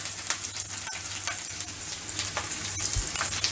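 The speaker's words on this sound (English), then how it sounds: "we can begin sauteing it." Food sautéing in a pan at a home dinner cook, a steady dense sizzle running throughout with a few scraping stir sounds, no talk.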